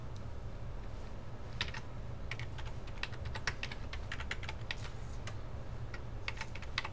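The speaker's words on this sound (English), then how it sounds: "I'm going to type a name here." Close, quiet keystrokes on a computer keyboard tap out in uneven bursts over a faint steady hiss, with no voices.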